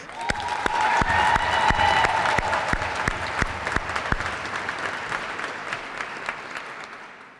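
Crowd applause echoes through a rotunda at a children's advocacy rally. Steady dense clapping is punctuated by sharp, regular louder claps and slowly fades near the end.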